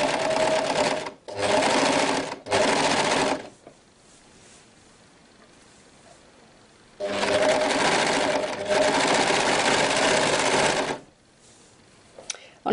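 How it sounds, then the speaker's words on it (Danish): An overlock serger sews thin, slippery organza with dense stitches, buzzing loudly in several close bursts: two short runs, a longer run, a pause, then one long sustained run before it stops. "når jeg bruger overlockeren her i sådan et tyndt materiale, så bruger jeg nogle tætte sting"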